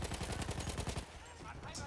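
Automatic fire rattles in a loud, rapid burst during a first-person shooter match, then stops abruptly and gives way to quieter ambient game noise.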